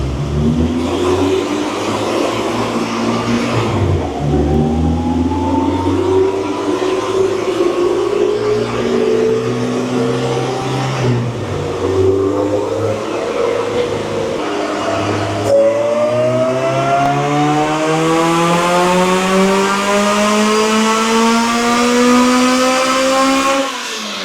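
A supercharged 1992 Honda Civic VX engine on a dyno revs up in long rising pulls, dropping back between runs, its whine climbing steadily and loud throughout with no talking.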